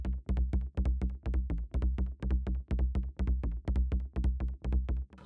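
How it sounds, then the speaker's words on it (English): Bass line of an electronic dance track played alone without kicks: a dense, repeating pattern of punchy low notes pulsing in a tight, driving rhythm, loud and continuous with regular short dips between phrases. "Bass line sounds like this."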